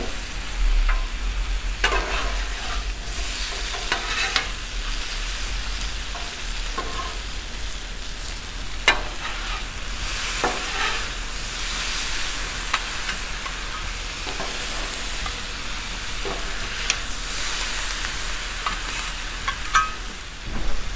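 Seasoned potatoes and smoked sausage fry on a Blackstone griddle with a soft, even sizzle, broken by a few sharp scrapes and clacks of a spatula flipping them; no one speaks.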